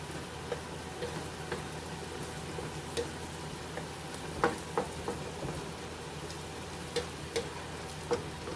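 Red pepper sauce paste frying in a pan, giving a soft, steady sizzle with scattered small pops and stirring clicks, quiet and close, with no voices.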